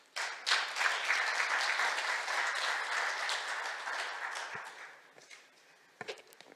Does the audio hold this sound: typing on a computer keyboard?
no